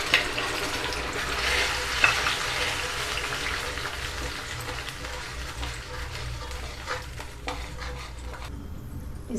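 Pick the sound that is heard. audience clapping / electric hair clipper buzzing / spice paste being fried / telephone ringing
spice paste being fried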